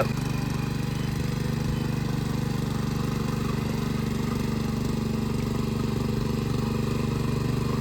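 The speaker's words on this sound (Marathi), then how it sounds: "तर त्यासाठी आता अनिकेत एकदा राऊंड मारून घेईल ट्रॅक्टरचा पूर्ण मळीवर" A tractor runs a full round over a plowed, muddy rice paddy in Konkan before water is let in. Its engine drones loudly and steadily at close range, with a continuous mechanical rumble and no break.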